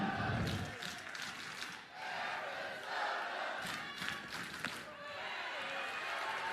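A softball crowd at an Oklahoma Sooners versus Arizona Wildcats game cheers and chants back and forth in dueling sections, a rolling, moderately distant roar with rhythmic shouted bursts.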